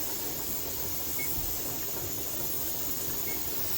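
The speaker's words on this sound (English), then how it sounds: "we've got steam constantly coming out of our vent." Steam hisses steadily from the vent of a pressure canner while chicken bone broth is being canned, a constant broadband rush with a low rumble beneath, no voices.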